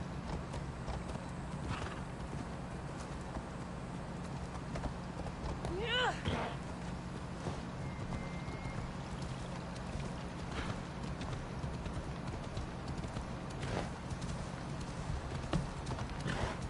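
Horse hooves clip-clop at a steady riding pace in the video game Assassin's Creed Odyssey, with a short whinny partway through, over constant game ambience and music.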